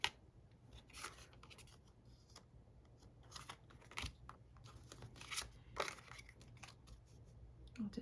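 Scissors cut paper or card for a recycled craft in a quiet room, a string of separate sharp snips and crunches at uneven gaps, close and fairly faint, with small handling rustles between them.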